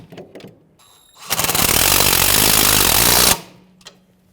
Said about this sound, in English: now what I'm going to do is tighten up the nuts up top